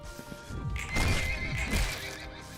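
A horse neighs in the video game Library of Ruina, a loud, close whinny rising and falling over about a second with hoof clatter beneath, no talk.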